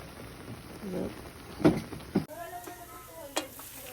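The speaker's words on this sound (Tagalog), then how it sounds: "Yan, kumukulo na." Ginataang tilapia simmering in a pan, with a soft bubbling sizzle and a few stirring clatters of a utensil against the pan, close and moderate in level, with no talking.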